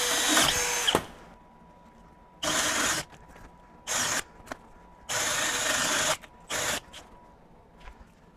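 A 12-volt Milwaukee M12 FUEL Gen 3 hammer drill driver bores a center hole, running in several loud bursts of whine separated by pauses, starting with one long run and followed by shorter on-off pulls of the trigger.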